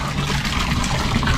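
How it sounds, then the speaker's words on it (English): Water rushes steadily through a hose being flushed before filling an RV water tank, a loud, close, continuous gushing with no talking. "I'm gonna flush it out a little bit before we start filling up the tank."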